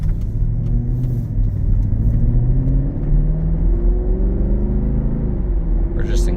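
A Mercedes-Benz SL 63 AMG engine rumbles steadily from inside the cabin while cruising in comfort mode, a deep continuous drone with shifting tones, and a person talks over it.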